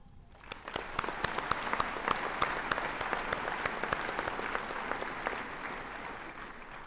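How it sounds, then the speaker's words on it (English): A graduation audience at Lake Area Tech gives a round of applause thanking faculty and staff, steady, moderately distant clapping from a large crowd that holds evenly throughout. "please join me in thanking all of our employees with a round of applause"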